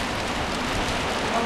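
Steady rain at Chiew Larn dam, a dense continuous hiss of drops on surfaces filling the whole moment at an even, moderate level.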